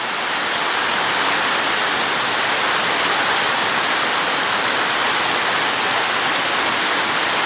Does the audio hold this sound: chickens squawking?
no